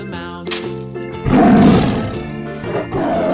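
A tiger's roar rises loud and sustained for about a second in the middle, set against upbeat children's music with a singing voice before and after.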